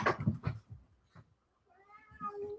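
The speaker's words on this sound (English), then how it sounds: "A cat just came charging into my room." A cat indoors in a room gives a drawn-out, wavering meow after some soft thumps and shuffling, the call fairly close but quiet.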